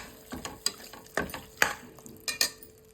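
Goat liver cooking in masala in a pan, stirred so a spatula scrapes and clacks in sharp, irregular strokes over a steady sizzle, close and clear with no talk.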